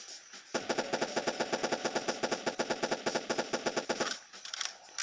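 Rapid machine gun fire against zombies in the Android shooter Dead Plague: Zombie Outbreak, a fast, evenly spaced burst of loud shots for about three and a half seconds, then fading game noise.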